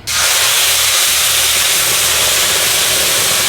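A loud, sudden burst of hissing sizzle as wet onion, ginger and garlic paste hits hot oil left from frying fish, continuing strong and steady to the end.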